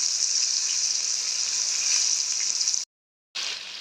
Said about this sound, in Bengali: উল্টাইয়ে পাল্টাইয়ে ভালো করে লাল লাল করে ভাজবো